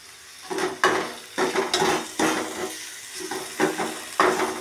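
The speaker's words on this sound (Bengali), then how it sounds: "দেখুন, ভাজতে হবে, ভালো করে লুচিয়ে ভাজতে হবে।" Brinjal being fried in hot oil in a pan while making begun bharta, with steady sizzling broken by repeated scraping and stirring strokes of a utensil, close up and with no talking.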